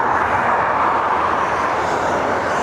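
A Ryanair airliner bound for Athens moves out at Dublin Airport, giving a continuous broad jet roar that holds at a moderate, fairly distant level with no voices.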